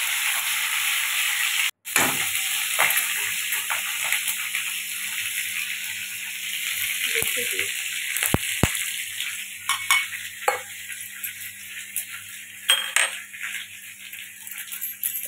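Crushed garlic, green chillies and five-spice seeds frying in hot oil, giving a steady loud sizzle throughout, broken by one sharp clatter early on and scattered stirring knocks and rattles later.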